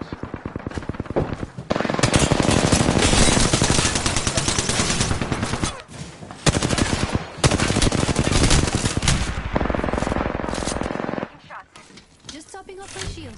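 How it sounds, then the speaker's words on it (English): Sustained automatic gunfire and rapid shots in a first-person shooter firefight, dense and loud for most of the span with brief lulls, game voice callouts mixed in. "Getting shot at. Firing on subjects."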